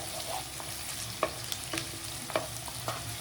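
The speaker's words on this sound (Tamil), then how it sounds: "இதுவும் தக்காளியும் இஞ்சி பூண்டு இதுவும் வாசனையும் பச்சை வாசனையும் போகிற வரைக்கும் கொஞ்சம் நேரம் வதக்கணும்" Tomato with ginger-garlic sautés in a kadai with a soft, steady sizzle, punctuated by light scraping and tapping of a stirring spoon.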